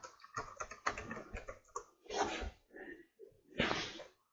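A password is tapped out on a computer keyboard in quick bursts of close, crisp key clicks separated by short pauses, quiet and with no voices.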